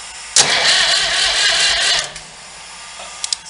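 Renault D30 tractor's diesel engine cranks and catches with a sudden loud burst, then runs roughly for about two seconds before fading back. Nearby and alone, with a couple of small clicks at the end.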